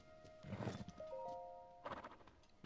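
Horse sounds from The Legend of Zelda: Tears of the Kingdom, a giant white horse: a few hoof clops with a short whinny, plus tonal effect chimes, quiet and brief without talking.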